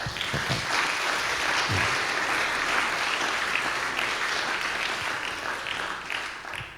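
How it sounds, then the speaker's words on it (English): Sustained audience applause after a Sephardic music concert, a steady, full wash of many hands clapping for several seconds, even in level and tapering slightly at the end. "And one last round of applause"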